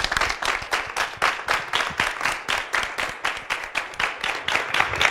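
Audience applause at a French debate, a dense, steady wash of many hands clapping with a pulsing rhythm, loud and close, continuing throughout without talk.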